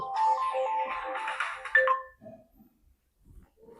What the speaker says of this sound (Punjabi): ਕੀ ਦਾ ਫੋਨ ਆ ਗਿਆ